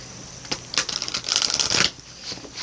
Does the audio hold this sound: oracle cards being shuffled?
yes